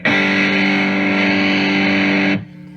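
A sustained distorted electric guitar chord through a Varmint distortion pedal set to a dark tone rings out loud and thick with a muffled tone, then cuts off abruptly near the end.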